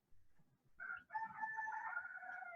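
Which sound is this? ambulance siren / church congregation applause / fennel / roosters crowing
roosters crowing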